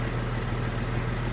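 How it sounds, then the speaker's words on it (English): Steady, even hiss of rain falling in Farming Simulator 19 during harvest on a farm, constant and unbroken with a low hum underneath. "stand here in the rain"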